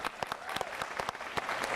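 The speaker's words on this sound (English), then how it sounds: "So join me in a round of applause." An audience claps at an event previewing a Penn State quarter horse sale, a brief burst of moderately loud, scattered applause with distinct individual claps.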